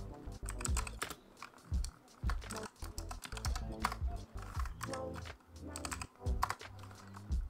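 Terminal command typed on a computer keyboard, a fast close run of clicky keystrokes with brief pauses and heavier thumps, continuous and without talking.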